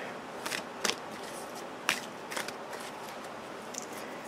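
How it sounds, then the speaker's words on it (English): Tarot cards being shuffled by hand, giving a few soft, brief riffling and slapping bursts spaced irregularly over a quiet background, with no talking. "So let's do one more shuffle."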